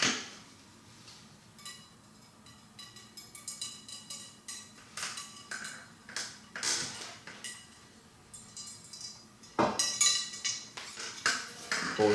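A cleaning rod is pulled through an over-and-under shotgun barrel, producing faint metallic clinks, scrapes and rattles in irregular bursts close by, with no talk.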